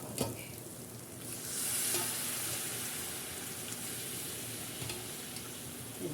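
Masala is stirred into boiled chickpeas in a hot pan, giving a continuous, moderately quiet sizzle broken by scraping stirs and a few sharp clicks of the utensil against the pan, with no talking.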